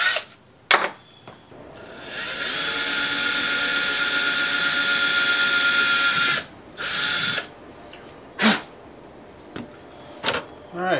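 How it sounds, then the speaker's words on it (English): A power drill whirs loudly for several seconds in one sustained run drilling a pilot hole during metal detecting beach scoop assembly, followed by a few short bursts, with talking in between. "I'm going to drill a little pilot hole."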